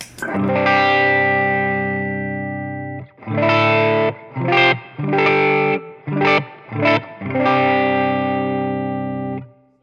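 Distorted electric guitar through a Wampler Tumnus overdrive pedal with the treble turned up plays a long sustained chord, then a series of choppy, bright chords with brief gaps, gritty and loud.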